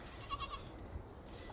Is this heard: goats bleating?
yes